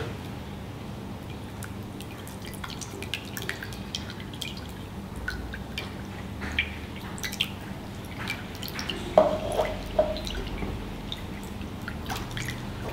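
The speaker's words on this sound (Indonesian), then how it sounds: "Masukin susu cair" Milk is poured into a batter mixture, giving a soft, steady liquid trickle with small drips and splashes, close and quiet with no talking.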